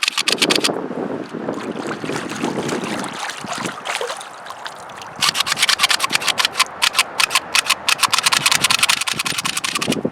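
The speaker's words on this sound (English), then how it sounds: "so here it is, rinsed it off in a mud puddle" A Taurus G2C pistol is swished and rinsed in a muddy puddle outdoors: first a close, rough rubbing and sloshing, then a fast run of sharp, rhythmic watery splashes.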